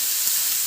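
Mushrooms frying in a little oil in a pan, a steady, close sizzle and hiss with no talk.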